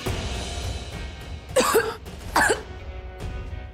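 A woman coughs in two sharp bursts, close and clear, with quiet room noise between them.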